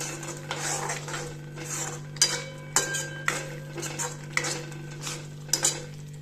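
A lid goes back onto a cooking pot of paneer curry on a gas stove. Several sharp metallic clinks and clatters sound close by over a steady low kitchen hum.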